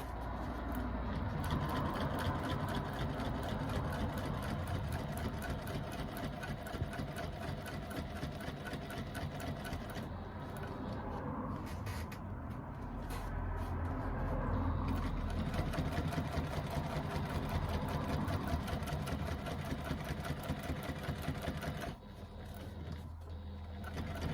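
A sewing machine stitches a line just below a facing, its fast, steady mechanical whirr running continuously with a slight dip near the end.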